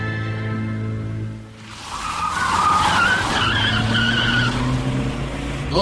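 Car in a radio play, engine humming before tyres break into a loud sustained skid and squeal as it speeds away, with the engine note rising beneath.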